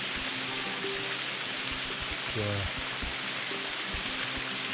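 A waterfall in the Peak District pours with a steady, loud, even roar that fills the whole stretch, with a brief spoken word over it.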